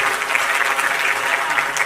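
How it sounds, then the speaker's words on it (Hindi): Audience applause at a live comedy show fills the room, a dense steady clapping from a seated crowd that holds loud and even throughout without any talk over it. "एक बार जोरदार ताली हो जाए।"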